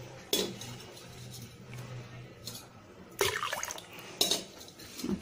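Water is stirred into soaked tamarind in a metal vessel for rasam, with sharp clinks and clatters of utensils and soft liquid sloshing, set against quiet kitchen background.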